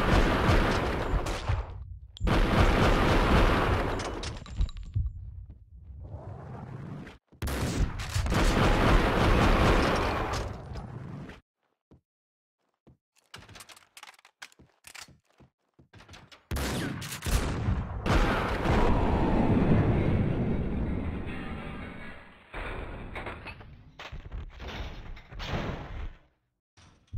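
Gunfire in a shootout in the Max Payne 2 mod MI New Dawn, New York hotel level: loud bursts of shots and heavy impacts come in several dense clusters separated by short quiet gaps.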